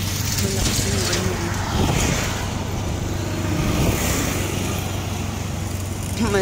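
Vehicles roll past on a busy road with a constant, loud roar of traffic, and a couple of swells suggest cars passing close by. Voices can be heard faintly underneath.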